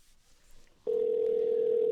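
A telephone tone comes on abruptly and holds steady and loud while a call is placed, after a near-silent start, with no voices over it.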